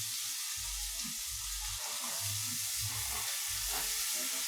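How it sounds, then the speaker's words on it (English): Onions cook down in a pan with a soft, steady sizzle and hiss, faint and continuous, broken by low bumps and occasional stirring sounds; no talking. "Alright, so these onions are cooking down perfectly."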